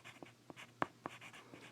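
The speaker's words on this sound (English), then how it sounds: "So I'm going to write that right on the top here." A pencil scratches across paper while hatching is drawn, making soft, short strokes in an irregular rhythm with one sharper tap in the middle, quiet and close with no talk.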